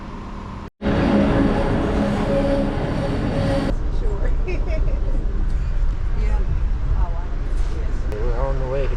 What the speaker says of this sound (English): Beautiful morning to catch the train.